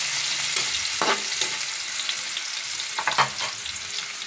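Onions frying in a pan for Filipino pork caldereta, a close, steady sizzle with a few sharp spatters and stirring clicks, no voices.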